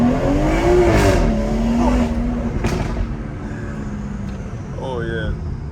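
A BMW 340i fitted with a loud aftermarket downpipe revs hard and close, the engine note rising and falling over several pulls with a deep, raspy tone, while people talk over it.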